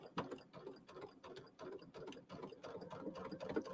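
Sewing machine stitching slowly through bulky quilt pieces, a close, quiet run of rhythmic mechanical clicks and ratcheting taps at an even, unhurried pace.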